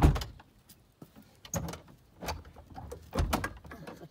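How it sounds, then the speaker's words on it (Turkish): A wooden village door is pushed shut and locked, giving a series of knocks, scrapes and a metallic clack at irregular intervals, close and fairly loud, with no talk. "Kapımızı da kilitledim."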